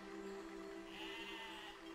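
Sheep bleat in the physics-based siege game Besiege, a single drawn-out wavering bleat, faint and alone.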